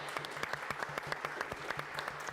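Clapping follows the band performances, a quick, fairly regular run of claps with a low hum underneath, moderately close and with no voices over it.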